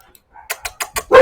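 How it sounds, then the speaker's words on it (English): Dogs bark four times in quick, evenly spaced succession, close and fairly loud, and a voice starts talking right after the last bark. "Sorry for the dogs barking."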